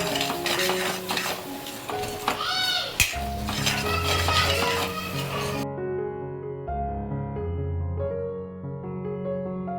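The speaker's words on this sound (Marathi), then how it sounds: "मिक्स करून घेऊया सगळं त्याला मस्त तेल सुटेपर्यंत भाजून घ्यायचं" Masala with ginger being stirred and roasted in oil in a pan for Konkani-style chicken vada, metal spoon scraping and clinking over a soft sizzle, partly under background music, no talking.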